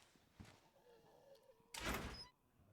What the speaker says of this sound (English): So I open the door and I take a look.